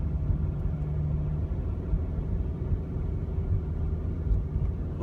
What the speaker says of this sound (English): So I've popped into first gear, but I've got a bit of gas going because of the hill.